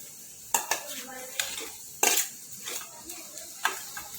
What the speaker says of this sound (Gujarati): હવે બટાકા નાખીશું